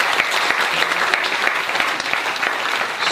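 Congregation at a revival healing service in Taravao, French Polynesia, breaking into dense, sustained applause for the Lord: steady, close, crackling clapping that fills the whole moment without pause.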